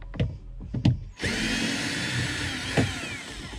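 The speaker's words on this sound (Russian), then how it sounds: "я пользуюсь шуруповертом в этих делах" A cordless screwdriver whirs steadily for a few seconds while backing screws out of a Skoda Octavia A5 door card, after several short knocks and handling clicks; the motor is close and fairly loud.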